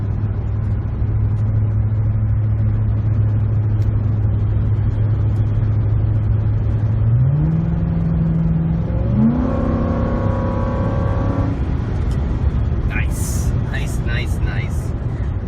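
Low exhaust drone from a Ford F-150 pickup with a Magnaflow cat-back exhaust cruising steadily, rising in pitch as it accelerates and shifts, with a few brief squeaky noises near the end.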